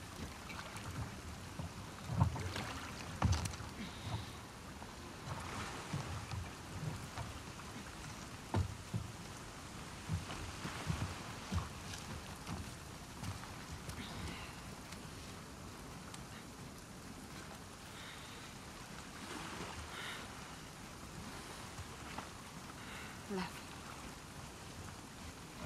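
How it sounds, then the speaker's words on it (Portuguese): Rain falls steadily in the video game The Last of Us Part II, a continuous soft hiss broken by scattered heavier drops and thumps, with faint voices at times. "Bora sair da chuva?"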